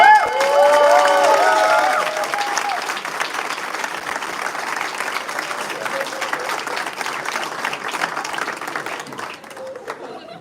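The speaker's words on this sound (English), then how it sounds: "Deserve a big round of applause." Dense, sustained applause from a moot court audience, with voices and a few cheers near the start, tapering gradually toward the end.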